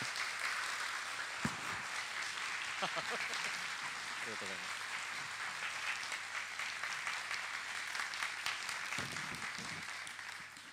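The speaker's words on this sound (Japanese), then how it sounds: "中村文明さんに大きな拍手をお願いします" An audience at a special lecture event in Tokyo applauds steadily for about ten seconds, a dense wash of clapping with a few sharper claps and brief voices mixed in.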